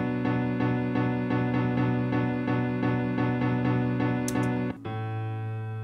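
Piano chords repeated in a steady standard eighth-note rhythm in a pop pattern, even and prominent, shifting to a new held chord near the end with no talking.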